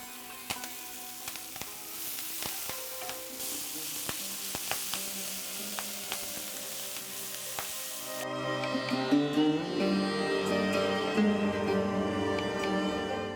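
Collard greens with a teaspoon of turmeric powder stir-fry in a hot pan, giving a steady close sizzle with scattered taps and scrapes of stirring, the frying growing louder and fuller partway through.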